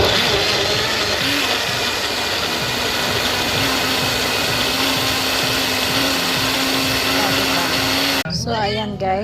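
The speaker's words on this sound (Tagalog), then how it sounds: "Tapos i-blender natin siya guys." Loud continuous whirring of a blender making a fruit smoothie, running steadily for several seconds, then cutting off abruptly as a voice begins speaking.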